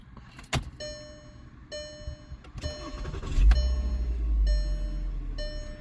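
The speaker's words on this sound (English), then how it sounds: "Let's restart the car." A VW Jetta is restarted: repeated chime tones and a few clicks come first, then the engine cranks and settles into a low, steady idle that stays close and fairly loud.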